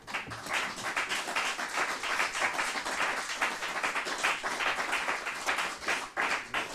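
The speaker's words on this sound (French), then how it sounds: "Normalement, il n'y a pas d'applaudissements dans une salle de conseil municipal." Applause fills a municipal council meeting room, a dense, steady round of clapping from the people present that carries on for the whole stretch without any talk over it.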